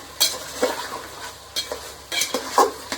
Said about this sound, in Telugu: పసుపును ఉప్పు వేసాం కదా, అవి మొత్తం కలుపుకోవాలండి